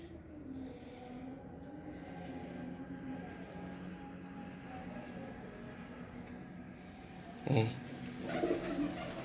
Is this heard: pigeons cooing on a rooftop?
yes